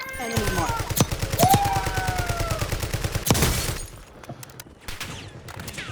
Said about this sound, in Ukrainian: Звідки стріляють? не можу поняти.